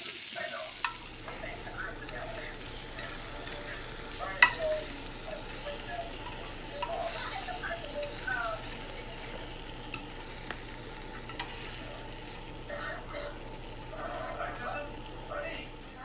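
Chopped bacon frying in a pan, a steady soft sizzle with scattered crackles and pops continuing throughout, no talking over it.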